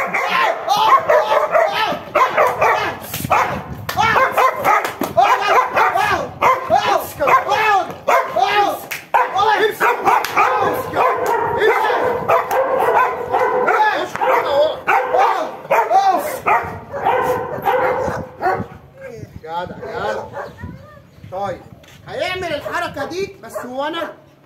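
During dog training, a dog barks and yips repeatedly in loud, close bursts over about twenty seconds, mixed with whimpers, while people talk and call out throughout.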